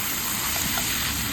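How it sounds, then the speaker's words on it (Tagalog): Beef frying in hot oil for beef and broccoli, a loud, dense, continuous sizzle that stays steady and close throughout with no talking. "Put oil, and I will put the beef."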